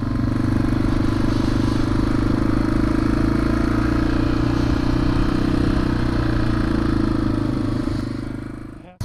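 A Yamaha TW200 motorcycle engine runs steadily and loudly up close, a continuous low throbbing drone with clattering mechanical texture, no talk over it.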